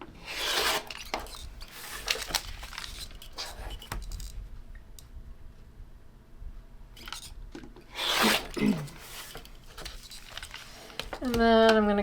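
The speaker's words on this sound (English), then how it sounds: "So what we want to do now is trim on all the solid lines. So I'm going to trim my longest lines first." Scissors trimming a paper-pieced quilt block along its solid lines, giving soft rasping cuts in short bursts with pauses between them, close and moderately quiet.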